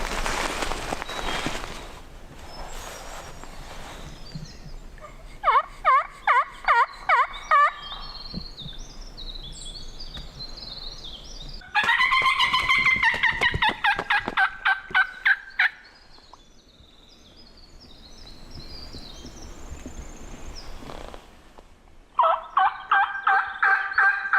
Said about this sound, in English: The gobbles back sounded about 300 yards out